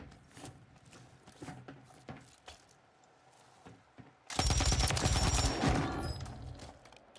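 Gunfire in a video game as a soldier is shot, beginning as a sudden loud burst of rapid shots after a stretch of quieter background sounds and then continuing for several seconds.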